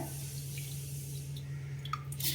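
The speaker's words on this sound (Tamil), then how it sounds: "கம்பில் எப்பயுமே சின்ன சின்ன கல் இருக்கும், அதை வந்து இப்படி அரிச்சுக்கிறணும்" Pearl millet is rinsed and swirled in water to separate out small stones, giving faint sloshing and a few drips over a steady low hum.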